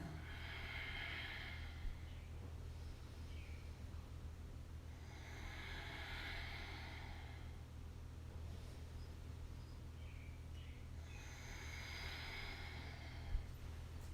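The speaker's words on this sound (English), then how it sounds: "So inhaling up and exhaling down." Soft, steady breathing rises and falls during double leg lifts in a yoga kriya session. Three slow inhale-exhale cycles are heard over a low background hum, quiet and unhurried.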